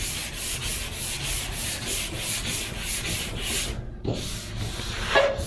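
Abrasive paper rubbing back and forth over body filler on a car panel before primer, removing 180-grit scratches; steady close scraping strokes in a regular rhythm, pausing near the end, with no talk.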